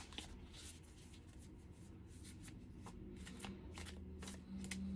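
Ancient Stones Oracle cards being shuffled by hand, a steady run of soft riffling and slapping card sounds close up, continuous for several seconds with no talk.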